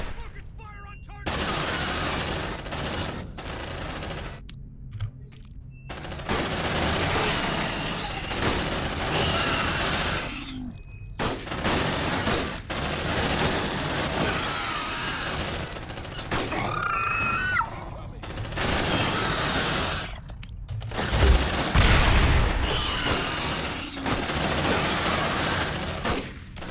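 Squad weapons fire in heavy bursts of automatic gunfire in Aliens: Dark Descent, rattling in long volleys with brief gaps, loud and close, with occasional grunts and voices under the shooting.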